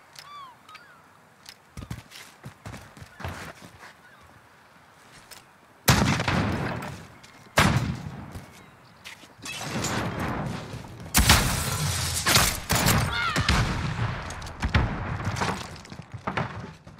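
Shotgun and pistol fire in Call of Duty during a college esports gunfight final, heard as sharp bursts of shots in clusters, with loud dense stretches around the middle and end and a quieter, sparser opening.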